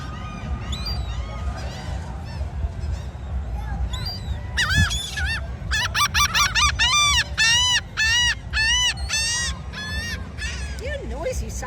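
Seagulls crowd in close at a Wildwood beach, squawking loudly in a rapid overlapping chorus of repeated calls, with a voice speaking faintly underneath.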